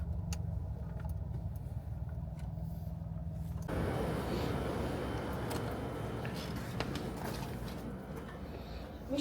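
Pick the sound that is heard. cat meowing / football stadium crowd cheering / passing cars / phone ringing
passing cars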